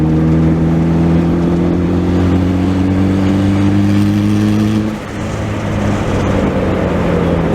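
A turbocharged Honda Prelude on a short test drive gives a loud, steady engine drone from inside the cabin that holds a constant pitch, dips briefly as it lets off, then picks back up.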